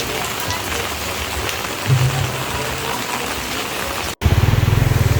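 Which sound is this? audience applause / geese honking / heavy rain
heavy rain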